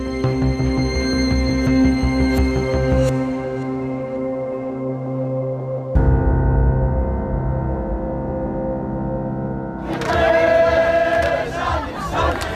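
A crowd gathers at a South African political rally for the RISE Mzansi movement, with many voices chanting and singing together in sustained, tonal waves that swell and shift over the stretch.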